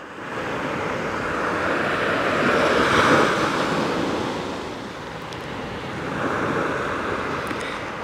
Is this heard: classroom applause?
no